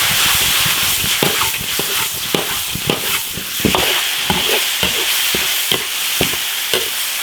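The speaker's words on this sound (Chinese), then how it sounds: "竹笋煸炒一下，去除它的那个苦涩味。" Fresh, just-dug bamboo shoots stir-fried with pork in an iron wok: a steady sizzle broken by rapid, rhythmic scraping and clanking strokes of the spatula against the pan, close and loud.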